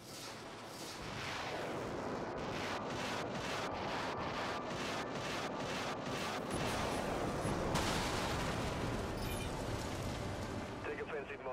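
Ship modules firing at targets in Dreadnought on PS4, a steady loud roar with a rapid series of regular shots through the middle.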